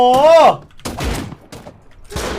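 Bursts of gunfire in the survival video game Rust, several sharp broadband shots spread across the clip, with a short voiced or whistling sweep at the start and speech nearby.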